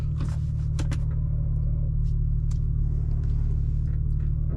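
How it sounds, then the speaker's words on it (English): A 2025 BMW M2 with M Steptronic automatic, roughly 470 horsepower and an M Performance quad-tip exhaust cruises on a freeway, giving a steady, loud low drone with a humming engine tone throughout, broken only by faint clicks and ticks. "that mperformance quad tip exhaust."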